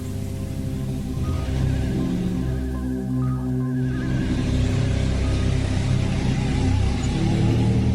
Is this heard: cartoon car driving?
yes